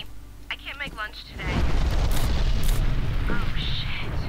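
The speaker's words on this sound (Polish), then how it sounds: "To jest w momencie wybuchu." A loud explosion booms in the horror shooter F.E.A.R. Extraction Point, a sudden rumbling blast that rolls on for a few seconds. Someone speaks in Polish before it and during it.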